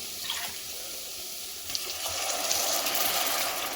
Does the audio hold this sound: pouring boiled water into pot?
yes